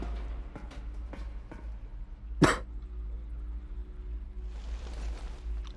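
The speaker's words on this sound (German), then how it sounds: "Du hast jetzt noch einen Hustenanfall" A single short cough bursts out once from a character in the post-apocalyptic video game Metro Exodus, close and sharp, over a steady low background hum, with faint clicks before it.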